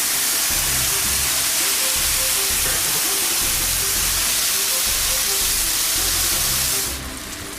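Tomatoes hitting a hot pan of browning chicken breasts set off a loud, steady sizzle and hiss that holds unbroken close up, easing slightly near the end.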